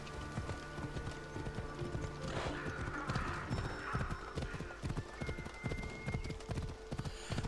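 Horse in the video game Assassin's Creed Odyssey trots with rapid hoof clip-clops and lets out a loud whinny midway, amid game ambience.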